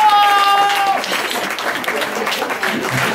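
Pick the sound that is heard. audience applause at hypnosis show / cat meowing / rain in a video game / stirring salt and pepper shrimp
audience applause at hypnosis show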